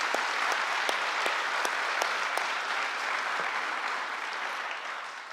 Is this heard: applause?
yes